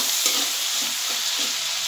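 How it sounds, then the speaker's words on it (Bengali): Chopped tomato added to a frying pan for puti fish curry sizzles loudly and steadily, with a close, bright hiss and faint rhythmic stirring underneath. "টমেটোটা দিয়ে দিলাম এর মধ্যে"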